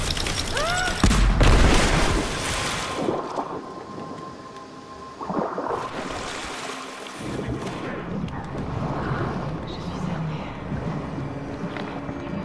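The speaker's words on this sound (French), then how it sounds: "Attention, grenade." A deep booming grenade blast in the action game Rise of the Tomb Raider, a loud close explosion early on followed by rumbling debris and lingering ambient combat noise.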